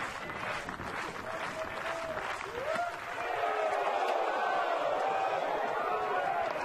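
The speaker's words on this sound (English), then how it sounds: "Crowd didn't like the call." A college baseball stadium crowd reacts to an umpire's call at the College World Series, a broad, rising roar of voices and jeers. It fills the ballpark at mid distance and swells over the last few seconds, with a commentator faintly under it.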